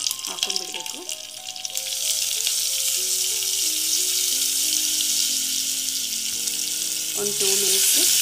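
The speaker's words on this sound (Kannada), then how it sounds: "ಒಂದು 2 ಮಿನಿಟ್ಸ್ ಫ್ರೈ ಮಾಡಬೇಕು" Ginger, curry leaves and green chili paste frying in a pan, a loud steady hiss and sizzle that swells after the first couple of seconds, with faint background tones and no talking.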